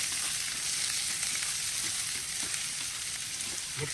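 Carrots and cabbage sizzle and fry in a hot pan for vegetable fried rice, a dense, steady hiss with occasional faint stirring clinks, no voices.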